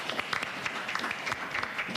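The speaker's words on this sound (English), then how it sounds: "Please clap for that." Applause from an audience at a Democratic primary forum for a congressional district in New Hampshire, a steady patter of many hands clapping at moderate volume for about two seconds, with no talk over it.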